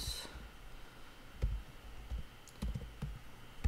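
A handful of sparse, quiet keyboard clicks at irregular intervals, close by, over a faint room hum.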